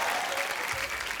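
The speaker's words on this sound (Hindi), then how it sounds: "सो आप सबकी जोरदार तालियों के बीच फ्लाइंग जट मिस्टर टाइगर" A comedy talk show's studio audience applauds, a thick, even wash of clapping that holds steady for a moment without voices on top.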